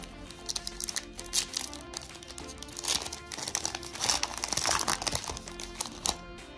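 Foil wrapper of a 2020 Panini Chronicles NFL football card pack torn open up close, giving dense crinkling and crackling bursts with brief pauses, no talking.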